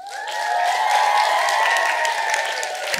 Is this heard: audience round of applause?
yes